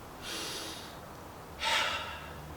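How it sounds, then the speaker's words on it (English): During a virtual karate class, a deep breath is drawn in through the nose, followed after a short pause by a stronger, louder exhale, both close and with no talking. "Take a deep breath into the nose. Fill your belly. Breathe out."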